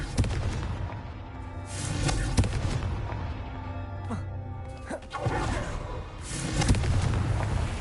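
The Confringo blasting spell cast in a wizard video game produces repeated booming explosive bursts amid continuous crackling, rumbling blasts, loud and dense, with a few brief sharper impacts scattered across the passage.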